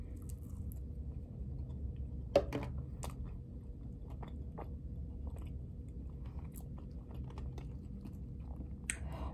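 Seasoned french fries, eaten alongside wings, are chewed up close: quiet, soft crunching and mouth sounds over a low background hum, with one sharper bite and no talking.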